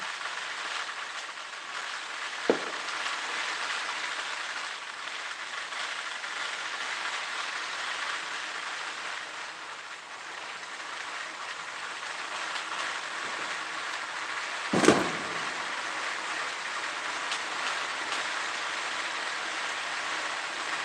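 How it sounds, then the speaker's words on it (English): Neighborhood safe-and-sane fireworks crackling continuously like falling rain, a dense steady hiss heard from a distance, with two sharper pops standing out near the start and about two-thirds through. "can hear all the crackling from the neighbors"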